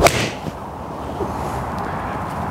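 A TaylorMade P790 iron strikes a golf ball in one sharp, crisp click at the very start, followed by a soft fading whoosh of the ball flight and quiet outdoor air.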